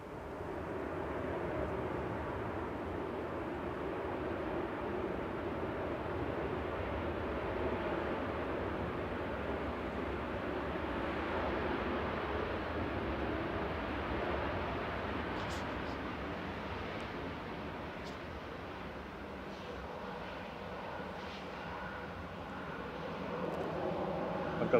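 An airliner, registration G-EZWS, taxiing out at Manchester Airport bound for Crete, a steady broad jet-engine roar that holds evenly throughout, with no voices over it.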